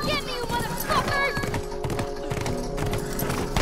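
Galloping horse hooves in The Last of Us video game, a rapid clip-clop rhythm mixed with game music and effects while someone talks excitedly over it.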